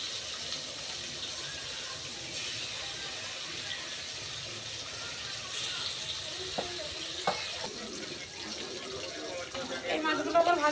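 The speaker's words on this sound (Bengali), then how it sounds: "এইভাবে বাকি মাছগুলো আমি ভেজে নেব।" Silver carp pieces sizzle steadily in hot oil in a home kitchen pan, a continuous close frying hiss with a few clinks of utensils and a livelier crackle toward the end.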